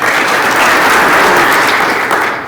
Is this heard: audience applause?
yes